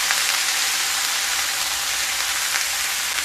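Chopped bottle gourd sizzles in hot oil in a pan, a steady bright hiss like light rain, close and continuous with no talk.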